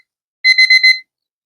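A timer alarm rings in a quiet room during an in-person psychic reading, four quick bright electronic beep bursts in a row, loud and alone, then silence.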